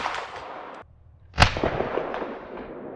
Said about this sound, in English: We're going to go ahead and shoot the subsonic one next